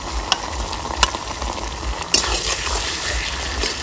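Cumin paste, garlic, ginger, dried and green chillies fry together in a pan for a home duck curry, sizzling steadily up close with a few sharp spatters and stirring scrapes.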